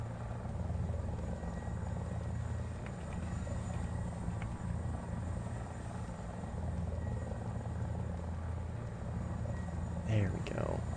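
A helicopter in the War Thunder combat game thrums steadily and loudly throughout, a continuous rotor and engine drone with a brief whooshing sweep near the end.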